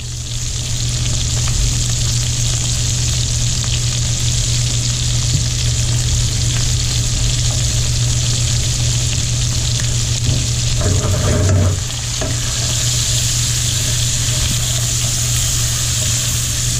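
Diced onion frying in a pan for shrimp and sausage paella, a loud steady sizzle with a low hum throughout and a brief clatter of stirring near the end.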